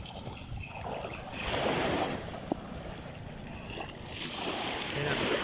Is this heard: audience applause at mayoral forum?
no